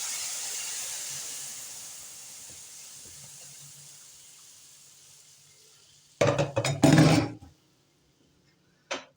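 Syrup is poured into a pan of cocoa semolina halva and hisses and sizzles loudly in a short surge of about a second, then cuts off, with a brief splash after it; a low hiss fades away before the pour.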